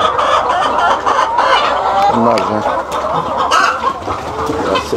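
Hens clucking at a chicken farm of about 300 birds, a dense, steady chorus of overlapping clucks that fills the whole stretch at close range, with faint talk underneath.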